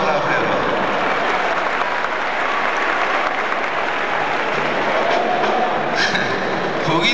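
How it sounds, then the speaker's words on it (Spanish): A concert crowd claps steadily and loudly for a performer, a dense wash of applause that continues without pause from start to finish. "Fuerte el aplauso para él."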